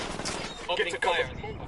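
Gunfire in the video game Ghost Recon Wildlands on PS4: loud, sharp shots and bursts cracking in quick succession, with a player's voice talking alongside.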